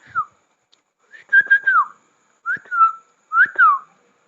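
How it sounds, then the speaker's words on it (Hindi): A man whistles a short tune in four rising-and-falling phrases, clear and close against near silence, with brief pauses between phrases. "सीटी मार रहा हूँ"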